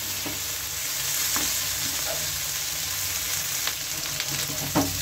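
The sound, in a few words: dried loitta fish frying in oil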